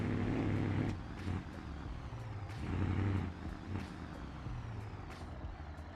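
A Chevy C10 pickup rolls into a repair shop in BeamNG Drive, its engine a steady low rumble that rises and falls with throttle, with faint periodic clicks and hisses over it.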